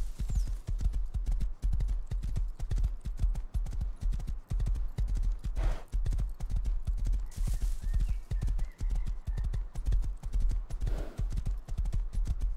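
Steady, rapid hoofbeats clip-clop throughout, with a brief whinny partway through; no talking.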